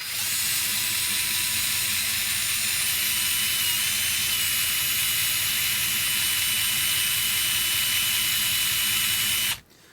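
A WORX WX242 MAX 4V lithium-ion electric screwdriver running at its single speed, a loud, steady motor whir with a fine ratcheting texture that holds evenly for about ten seconds before cutting off.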